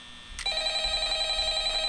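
A telephone in the Five Nights at Freddy's video game rings with a sharp electronic bell tone that starts suddenly and rings steadily, close and clear, with no talking over it.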